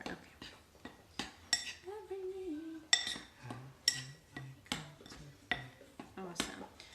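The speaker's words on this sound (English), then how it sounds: "There's a chunk of coconut sugar that I'm just trying to break apart" A utensil repeatedly knocks and scrapes against a bowl while breaking apart a chunk of coconut sugar among dry cookie ingredients, giving a steady series of close clinks and taps under a brief spoken aside.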